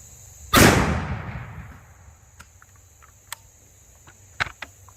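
A single sharp, loud gunshot from a 400 Legend rifle firing a 125gr Fort Scott TUI round, cracking close by and then echoing away over a second or two, followed by quiet outdoor air with crickets and a few small clicks.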